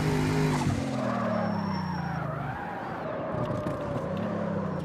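A car drifts and spins a full 360 in the racing video game CarX Street, with a steady engine roar and long tire-squeal skids running continuously and loudly throughout.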